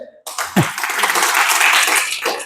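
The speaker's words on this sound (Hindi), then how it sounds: "तालियां हो जाए उसके लिए।" An audience at a business training program in Rewa bursts into loud, dense applause that starts abruptly and holds steady for a couple of seconds, close and filling the room.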